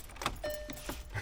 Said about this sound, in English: I'm gonna put the key in